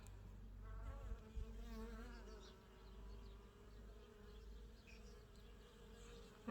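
Honeybees hum in a steady, fairly faint buzz at the hive entrance in early February, while individual bees returning with pollen drone past now and then.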